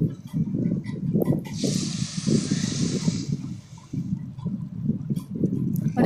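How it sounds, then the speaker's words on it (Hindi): Water is poured into a hot pan of fried daliya, giving a loud sizzling hiss and gush for about two seconds, set against steady bubbling and cooking noise in a kitchen. "अब हम डालेंगे पानी।"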